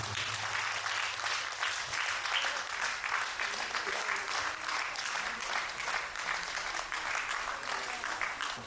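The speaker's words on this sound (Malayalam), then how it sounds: "എല്ലാവരും നല്ലൊരു കൈയടി കൊടുക്കുന്നു." A crowd at a high school class reunion gives a teacher sustained applause, with dense clapping holding steady throughout and faint voices mixed in.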